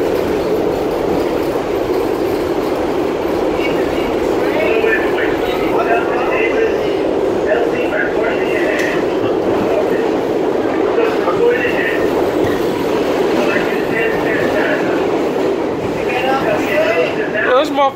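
Steady rumbling interior noise of a moving passenger train carriage, continuous and fairly loud throughout, with people talking and arguing over it.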